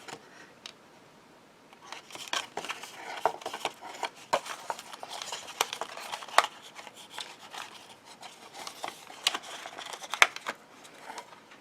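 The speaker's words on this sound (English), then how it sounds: "I'm just going to finish it with my scissors." Scissors snip through a handmade Christmas card, giving a series of crisp, close cuts and paper rustles in uneven bursts, with quiet handling noise between them and no talking.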